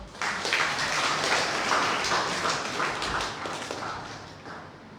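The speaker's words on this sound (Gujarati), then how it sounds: "જોરદાર તાળીઓ" A crowd at a school book-talk event applauds steadily, many hands clapping together in a dense burst that begins abruptly and tapers slightly toward the end.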